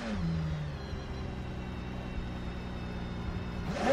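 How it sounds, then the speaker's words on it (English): The Aston Martin Valkyrie engine in Gran Turismo 7 holds a steady, droning tone at moderate level, whirring and rumbling throughout with a slight rise toward the end. "We need to take a listen to the engine sound."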